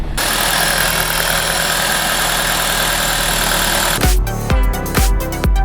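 A 7th-generation Toyota Celica engine idles loud and steady at close range for about four seconds, then a few sharp knocks and clunks break in near the end.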